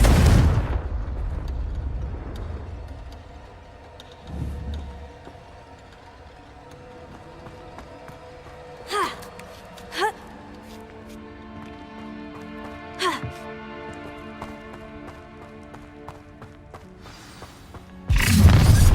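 Blasting-curse explosions in Hogwarts Legacy: a heavy blast at the start, a low thud near five seconds, several sharp cracking bursts in the middle and another loud blast at the end, with quieter stretches between.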